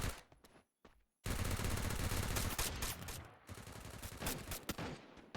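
Loud bursts of rapid automatic gunfire in the video game Free Fire MAX, including an MP5, briefly preceded by a few scattered shots and a short pause, then sustained rattling fire.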